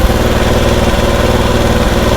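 A motorcycle engine idles close by after a mileage adjustment, a loud, even, rapid thumping that runs steady throughout with no break.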